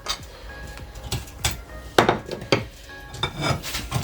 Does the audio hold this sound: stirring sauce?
yes